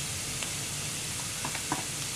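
Chili powder, turmeric and spices sizzling in hot oil in a pan for cauliflower poriyal, a soft steady hiss with faint stirring clicks, close and alone.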